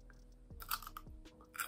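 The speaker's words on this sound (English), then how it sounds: "Just eating my cucumber." Someone eating a cucumber on a quiet day in Tokyo: a few close, crisp crunching bites with moist chewing between them, short bursts over a low steady background, no talk.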